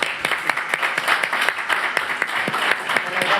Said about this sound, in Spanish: Aquí le pedimos un aplauso para ella.